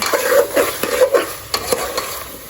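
Tinda (apple gourd) stirred into a cooking pot, several close, distinct scraping strokes of a spoon against the pot over a soft sizzle.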